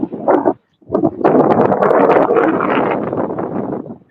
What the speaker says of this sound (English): We got some wind right now.